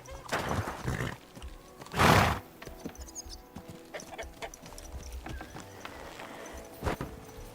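Hooves clop in a loose rhythm close by, joined by snorting and a short whinny from a horse in the video game Kingdom Come.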